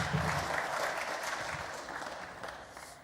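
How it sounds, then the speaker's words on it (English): Sparse applause from a small audience at the UFC 243 Whittaker vs. Adesanya press conference, a steady patter of clapping that fills the whole stretch at a moderate level without fading. "thanks to all 5 people that clapped"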